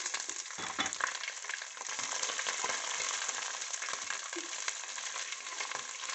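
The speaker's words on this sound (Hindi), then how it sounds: "इनको भी 30 सेकंड के लिए मैंने भून लिया" Garlic, ginger and spices fry in a pan with a continuous, crackling sizzle, close up at moderate loudness, with occasional soft stirring scrapes.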